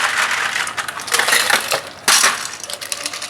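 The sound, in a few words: ice put into a cocktail mixing tin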